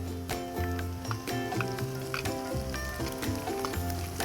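Ginger and green chilli sauté in a pan for a crab dish, giving a close, continuous sizzle with bursts of stirring and spatula scrapes throughout.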